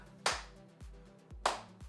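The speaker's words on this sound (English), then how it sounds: "So go back in with a side step with a clap." Two sharp hand claps ring out about a second apart, one on each side step of a gentle exercise circuit. Each clap is crisp and close, and a soft thud of footsteps falls between them.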